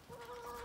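Chickens cluck softly nearby in a brief, low murmur of farmyard fowl sounds.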